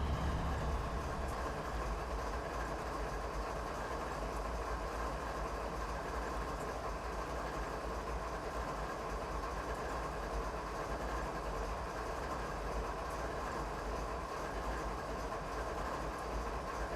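Simulated train rolling along rails on the Canadian Mountain Pass route in Train Simulator 2019, a steady low rumble and faint clatter of wheels continuing evenly, with no talking.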